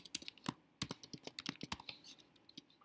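Fast, quiet clicks of a computer keyboard sound as a Unity prefab is renamed, with irregular keystrokes close by and no voices.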